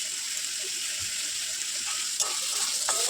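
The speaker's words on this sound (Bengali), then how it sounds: "প্রথমে কড়াইয়ে তেল গরম করে পেঁয়াজ কুচিগুলো আমি দিয়ে দিয়েছি।" A continuous close sizzle of chopped onions frying in hot oil in a kadai, with a couple of faint clinks near the end.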